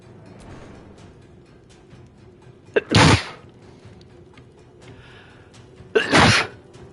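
Two loud, sharp human sneezes about three seconds apart, each a sudden burst standing out above a quiet background.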